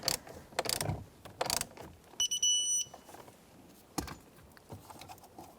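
A hand ratchet clicks in several quick bursts while tightening airbag bolts on the steering column of a 2002-2005 Ford Explorer, with a brief high electronic beep in the middle of the close, quiet workshop sounds.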